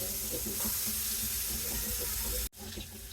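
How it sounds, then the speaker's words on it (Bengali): Fish fries in hot oil in a home kitchen, giving a steady, soft sizzle and hiss. The sound runs evenly, then drops out sharply near the end before quieter sizzling resumes. "এক করে প্রত্যেকটি মাছ আমি ভেজে নিব"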